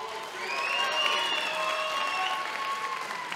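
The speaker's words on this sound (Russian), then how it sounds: "Аплодисменты, дорогие друзья." Audience applause after a WWFC 18 title fight, a steady wash of clapping that swells and holds for a few seconds, with a faint voice over it.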